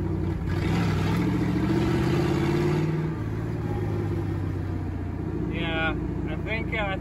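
A CJ5 Jeep engine fitted with a Quadrajet carburetor and mismatched gaskets runs steadily while driving, a loud continuous mid-pitched drone with slight rises in revs, with someone talking over it.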